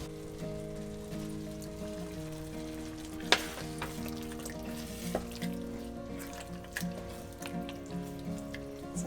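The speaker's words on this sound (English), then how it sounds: "So now we're just stirring it all the way through" Crushed tomatoes and tamari are being stirred into a vegan hamburger helper in a hot pan: a steady sizzle and bubbling runs under a low background hum, with occasional scrapes and knocks of the spoon.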